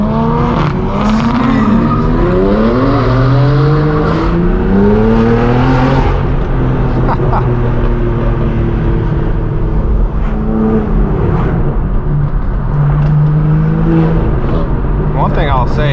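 A straight-piped BMW M4 G82 exhaust drones with a steady, loud, high-pitched hum, its pitch rising and falling as the engine revs during a drive to a BMW M car meet, with someone talking over it throughout.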